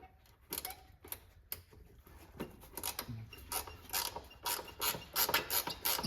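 A ratcheting wrench turning a bolt while replacing the rear axle check straps on an MGB, making rapid clicking pawl sounds in short irregular bursts, close and fairly crisp.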